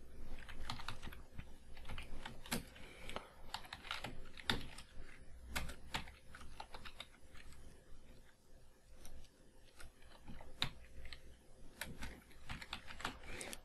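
Typing on a computer keyboard, a quiet, irregular run of close key clicks and taps continuing throughout with no speech.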